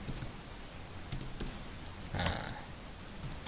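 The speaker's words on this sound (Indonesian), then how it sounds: "kita ketik ya" Typing on a computer keyboard: scattered, faint, crisp keystrokes tapped irregularly, with one slightly louder cluster near the middle, in a quiet room.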